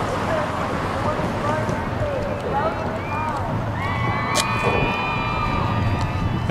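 Distant crowd cheering rises and falls from the shore during a women's varsity eights rowing championship regatta, heard faintly behind a steady background of wind and water noise, with thin whistles and shouts drifting in.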